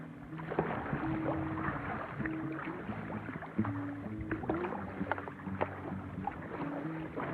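A kayak paddles in toward shore on a coastal trip from Townsville to Cooktown, soft rhythmic paddle strokes and water splashes over light wind, fairly close and continuous.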